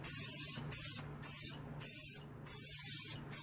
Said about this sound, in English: So that's why we're using the spray adhesive.